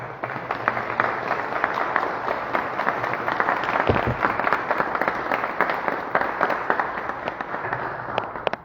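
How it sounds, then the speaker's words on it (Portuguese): Congregation clapping during a church service, a dense, sustained round of applause from many hands, fairly loud and even throughout, with a brief low thump midway. "Uma salva de palmas."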